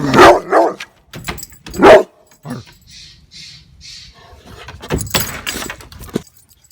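Dog named Hank barking in short, loud bursts near the start, with a few more distant yips and outdoor movement afterward.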